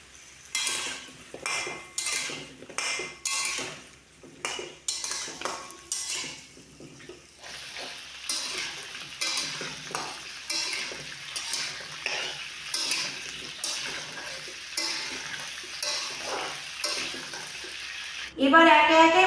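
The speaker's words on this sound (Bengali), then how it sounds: "আলুগুলোকে ভালোভাবে ভেজে নেব।" Potatoes frying in a pan for a vegetarian Bengali aloo dum. Rhythmic scraping strokes of a spatula sound over a low sizzle, ending in a louder metallic clatter.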